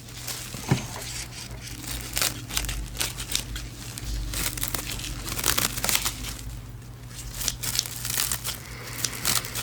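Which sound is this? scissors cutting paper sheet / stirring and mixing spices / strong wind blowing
scissors cutting paper sheet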